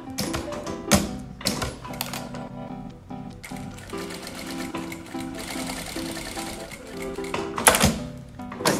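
A sewing machine fitted with a 5-16 presser foot stitches in rapid bursts, its dense mechanical chatter starting and stopping with sharp clicks, fairly close and without talk.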